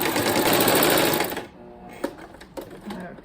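A sewing machine runs steadily for about a second and a half, stitching quilt strips together with quarter-inch seams, then stops, leaving quiet handling noises and a voice speaking.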